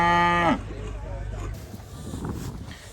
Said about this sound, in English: These are Simmental cattle.